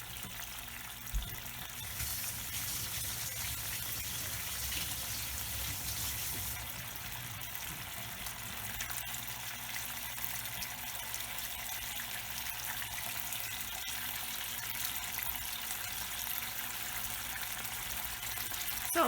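A kitchen tap runs in a steady hiss and splash while something is quickly rinsed during egg cooking, continuous and fairly close with no talking.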